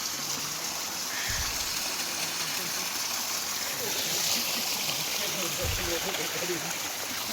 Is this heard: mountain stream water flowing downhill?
yes